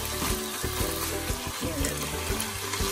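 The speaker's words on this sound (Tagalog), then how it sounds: "Tapos, haluin lang natin." Bitter melon (ampalaya) seasoned with salt and seasoning powder frying in a pan while it is stirred, giving a steady close sizzle with scraping and clinking knocks of the spatula against the pan throughout.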